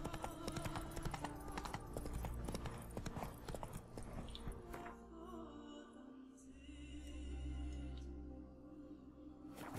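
In The Witcher 3 video game, a horse's hooves pound in a steady gallop that slows and stops after about five seconds, followed by a low ambient game soundscape.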